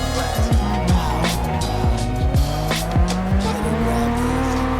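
Cars drifting in the Japanese Drift Master racing game, engines revving with rising and falling pitch over repeated loud tire squeals during a close chase.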